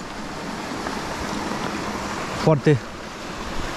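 Water from a stream and a small waterfall on a forest trail flows in a steady, moderate wash throughout. Someone speaks a brief word partway through, over the continuous rushing.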